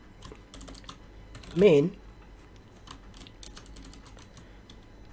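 Code is typed on a computer keyboard in rapid, irregular bursts of close, crisp key clicks, with a person speaking briefly over them.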